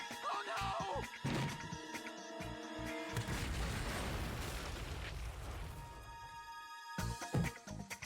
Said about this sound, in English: Exploding tomatoes?